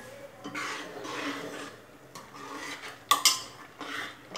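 Wheat kheer being stirred in a cooking pot, with a spoon scraping and knocking against the metal in uneven strokes and a sharp clink near the end, close and fairly quiet.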